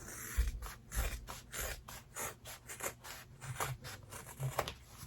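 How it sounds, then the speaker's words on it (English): Scissors snipping excess fabric off an in-the-hoop zipper bag, a rapid series of soft crisp rasping cuts in an even rhythm, close and fairly quiet, no talk. "I go ahead and cut this excess off"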